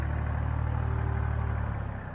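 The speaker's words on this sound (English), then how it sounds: "digging the hole with the tractor." Tractor engine running steadily while digging a burial hole among trees on an off-grid alpaca farm, a continuous low idling rumble that eases slightly near the end, with no talking.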